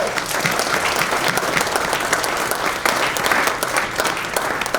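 Loud, sustained clapping from an alumni awards crowd, many hands beating together in a thick continuous roar that holds steady from start to finish.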